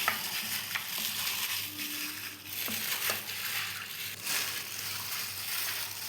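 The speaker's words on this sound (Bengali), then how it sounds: "আর দই দিয়ে মেখে নেব ভালো করে।" Chicken being mixed with yogurt by hand, a steady wet squelching and sloshing that runs continuously throughout at moderate volume, with no talk.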